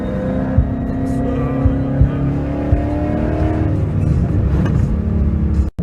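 A rear-wheel-drive Toyota MR2 accelerates hard, its engine note climbing loud and close with a strong rumbling drone from inside or near the car.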